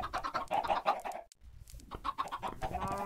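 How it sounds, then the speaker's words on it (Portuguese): Blocky chickens in the video game Minecraft cluck in a lively, close cluster of short repeated calls, with a brief quiet gap midway before the clucking resumes. "Mas, ó, as galinhas já estão aqui."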